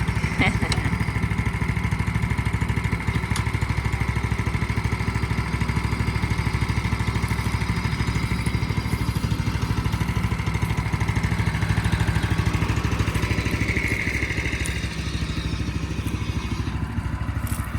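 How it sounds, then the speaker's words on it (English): Engine-driven brush blower running steadily close by, a continuous buzzing mid-pitched engine drone with rattling clatter that holds even throughout, with no speech over it. "So the faster the RPMs, the faster it blows, or the brush goes."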